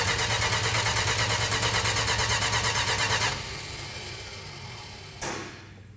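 A 1968 Dodge Charger R/T engine cranks without firing, a steady rapid rhythmic churning for about three seconds, then a lower rumble with a brief burst of noise near the end; no talking.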